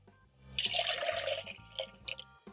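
Water pours briefly into a cooking pot on the stove, a close splashing gush lasting about a second before it trails off into a few drips.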